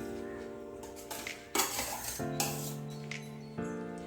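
Mango pickle being mixed in a metal pot, with repeated scraping and clinking of a spoon against the pot in irregular strokes, close and moderately loud, with no talking.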